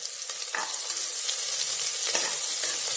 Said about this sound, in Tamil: கட் பண்ணி வச்சுருக்க வெங்காயத்தை சேர்த்துட்டு நல்லா பொன்னிறமாக வர வரைக்கும் வதக்கி விட்டுக்கோங்க